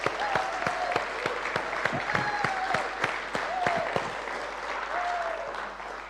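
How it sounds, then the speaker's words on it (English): A church congregation applauding during a Sunday service, sustained clapping with sharp individual claps standing out over the crowd, mixed with faint background music tones. "we just want to give God a round of applause"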